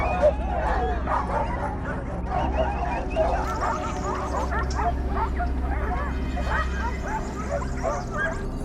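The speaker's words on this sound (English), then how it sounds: "Their relentless barking echoes through the forest, signaling to their masters that more targets are near." A pack of hunting dogs on a wild boar hunt in a forest, yipping, whimpering and barking in quick, overlapping, excited bursts over a constant low rumble, with a voice talking throughout.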